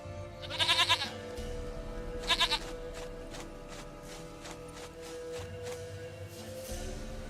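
A goat in The Witcher 3: Wild Hunt bleats twice, each a quavering, wavering call, heard fairly clearly over a steady bed of game music and background ambience.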